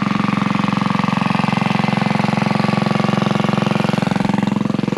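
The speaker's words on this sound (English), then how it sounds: "Back here at the pump site, you can probably hear it running there in the background." A Harbor Freight 1-inch water pump's small engine runs steadily at a well site, pumping water into a hose, with a rapid even putter that holds constant and fairly loud throughout, no voices.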